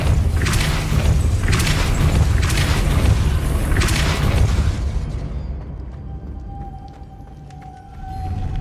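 The Depulso spell is cast in Hogwarts Legacy, giving a few deep, booming blasts with rumbling tails that then fade into a quieter hum with faint tones.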